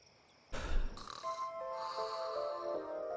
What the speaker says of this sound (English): I like the snoring sound effect.